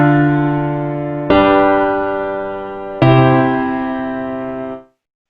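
A music-dictation question plays back with alto and tenor parts: three sustained, synthetic-sounding chords in succession, loud and clean, ending abruptly.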